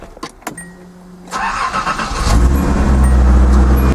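A BMW M5 engine cranks over after a few clicks and catches, rising into a loud, steady idle that fills the rest of the moment, with no talking.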